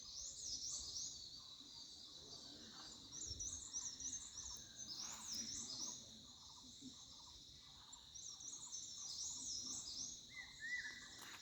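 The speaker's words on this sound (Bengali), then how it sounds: "পাখির আওয়াজ চতুর্দিক থেকে আসছে।" Faint, high bird chirps repeat in short scattered bursts from several directions around a homestay in Aritar, over a quiet, steady background hum.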